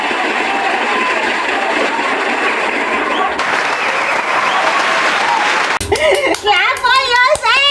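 An audience claps steadily and loudly after a birthday song at a grand finale felicitation ceremony, the applause fading out into excited voices and children chattering near the end.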